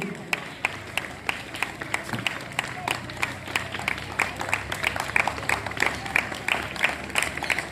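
Applause from an audience at a primary school's Independence Day (15 August) celebration, a steady run of many claps lasting throughout, fairly close, with crowd murmur underneath.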